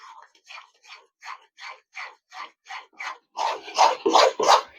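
Spices being sautéed and stirred in a pan over a raised gas flame for pav bhaji give a run of about a dozen evenly spaced, raspy scraping strokes, close by, growing louder and rougher toward the end.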